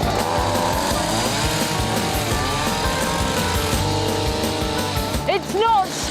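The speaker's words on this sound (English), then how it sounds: "It's a hedge trimmer." A petrol hedge trimmer runs steadily in a Derby garden, its buzzing engine loud and close throughout, with brief revving flourishes near the end.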